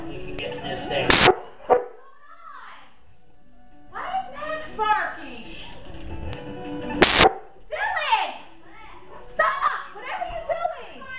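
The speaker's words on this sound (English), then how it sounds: "sorry, that was my dog barking." A pet dog barks in short loud bursts indoors, near and sharp, with a voice and game sounds in between; the barks repeat a few times across the stretch.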